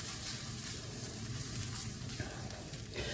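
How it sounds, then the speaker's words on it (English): Curry sizzles steadily in a pan while a spoon stirs it through, a continuous close frying hiss with soft scraping. "So we're going to give that a little bit of a mix around."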